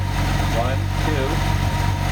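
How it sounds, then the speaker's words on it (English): A fuel pump runs during a test of a new car ECU wiring harness, giving a steady low mechanical hum with a faint whirring rising briefly over it, close and continuous throughout. "That's the pump."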